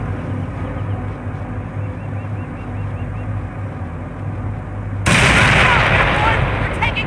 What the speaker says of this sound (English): They're taking pot shots at us.